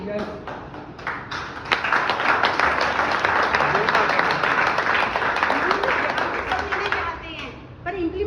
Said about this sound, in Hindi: सर के थैंक्स में तो ताली बज सकती है